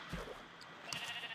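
Sheep bleating in Minecraft, a short game-sound bleat near the start and another brief bleat about two-thirds through, fairly close over a faint steady background.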